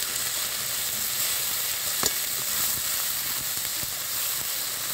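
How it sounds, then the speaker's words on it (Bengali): Onion paste frying in a pan for Gandharaj chicken gives a steady, close sizzling hiss with faint crackles throughout and no talking. "পেঁয়াজ বাটাটা দিয়ে দিচ্ছি।"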